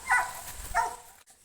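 A large mixed-breed dog on a hillside fruit farm gives two short, clear barks about half a second apart, fairly close, with no talk over them.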